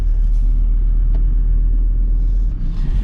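A van rolls along a road in Senegal, its steady low engine and road rumble holding close and constant throughout, with a slight shift near the end.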